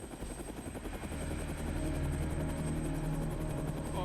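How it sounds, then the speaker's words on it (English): Rescue helicopter rotors chop loudly and steadily on Mount Hood, the thudding growing stronger as the aircraft draws nearer, with no voices. "Then, she hears approaching helicopters."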